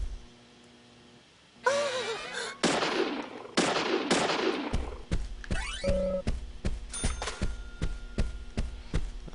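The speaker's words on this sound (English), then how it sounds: "I'll just shoot at Polly" Gunshots in Deadly Premonition, a run of sharp shots at uneven spacing, some in quick pairs, over a steady background hum and game sounds.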